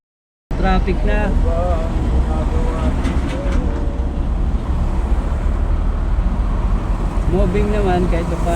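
Metro Manila road traffic heading toward Alabang fills the scene with a loud, continuous roadway rumble and engine noise, with voices talking over it at times.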